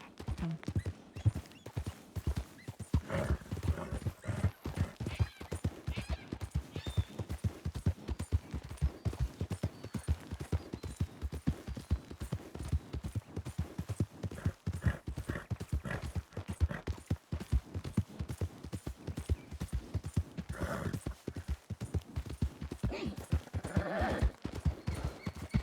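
Horse hooves clip-clop steadily in a Red Dead roleplay game, a continuous rapid rhythm of close hoofbeats with an occasional whinny and faint background chatter.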